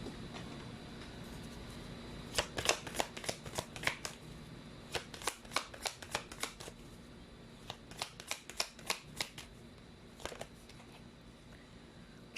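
Angel oracle cards being shuffled by hand: bursts of crisp riffling and flicking in quick irregular clusters, fairly quiet and close, with brief pauses between runs and no talking.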